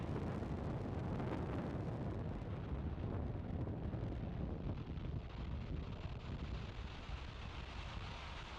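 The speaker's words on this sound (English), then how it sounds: "Liftoff of the Falcon 9." A SpaceX Falcon 9 rocket lifts off from Vandenberg Space Force Base on the NROL-153 mission. A loud, continuous, broad roar fills the whole stretch and slowly fades slightly as it climbs away.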